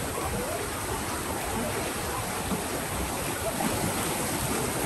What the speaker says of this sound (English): And we have a waterfall running right through.